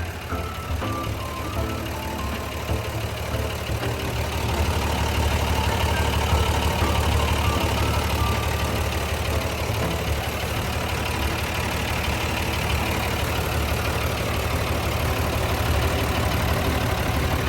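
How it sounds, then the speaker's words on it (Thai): A Komatsu six-cylinder diesel engine on a Komatsu WA200-1 wheel loader idles steadily at close range, a constant low rumble with a faint mechanical clatter and no voices. "เป็นเครื่องยนต์คมัสุ6สูบนะครับ"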